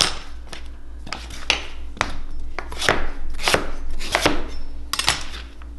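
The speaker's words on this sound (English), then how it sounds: "Chop up your horseradish." A knife chops horseradish sharply on a cutting board, a series of loud, uneven thwacks close by with no talking.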